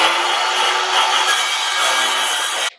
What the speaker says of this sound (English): that cut with the circular saw as fair, as straight as possible